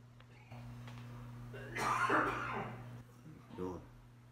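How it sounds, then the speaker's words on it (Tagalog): Short bursts of coughing, one longer fit and then a brief second cough, sound fairly quietly over a low steady hum. "Yung mga kasama ko dito guys, inuubo rin."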